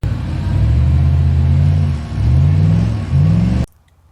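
A 6.9 IDI diesel truck engine runs with its muffler removed, giving a loud, deep, throaty rumble with brief dips in level before it cuts off abruptly near the end.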